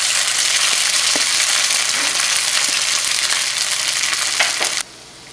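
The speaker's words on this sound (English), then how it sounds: "You can hear the sizzle of the polenta." Steady, loud sizzling of polenta frying in a cast iron skillet fills the clip with a few soft clicks, then cuts off abruptly near the end.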